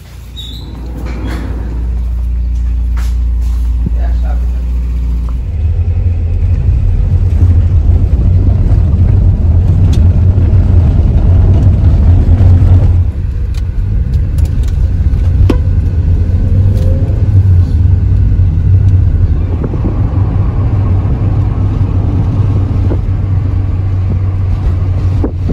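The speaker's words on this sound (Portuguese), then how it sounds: "Vamos de carona com o vovô, que ele vai na rua de carro" Inside grandpa's car driving along a street, a loud, steady low engine rumble and road drone fills the cabin, shifting slightly in pitch as the car picks up speed.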